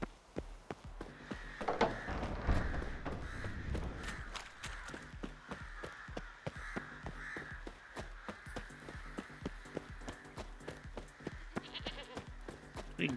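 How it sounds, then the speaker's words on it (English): A goat bleating in the video game The Witcher 3, heard as wavering, nasal calls over a busy bed of rhythmic clicking or tapping, at moderate level and fairly close. "Hey goat, how you doing?"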